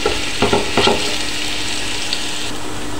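Garlic frying in a pan after onion for Pinoy spaghetti sauce, a loud continuous close sizzle with a few quick scrapes of a utensil near the start.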